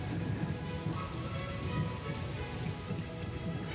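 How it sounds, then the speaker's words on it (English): Steady rain pours down outdoors from a small dark rain cloud, a dense, even hiss of drops on surfaces filling the whole stretch with no pauses and no voices. "the little black rain cloud that blew over and started to rain on me"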